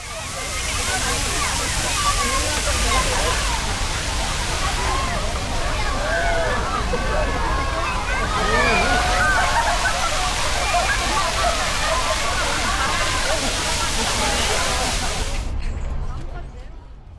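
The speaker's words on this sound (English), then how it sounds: "Water is gushing from the fountain I saw when I first arrived at the park." Water gushes steadily from a park fountain in Seoul Forest, loud and continuous, with children's voices and general crowd chatter mixed in throughout before it cuts off at the end.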